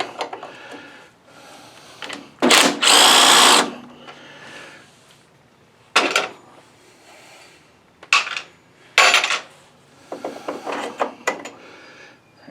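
A power tool gives several short, loud bursts between pauses while loosening a bolt on the nose of a Cub Cadet garden pulling tractor, with light clanks of handling in between.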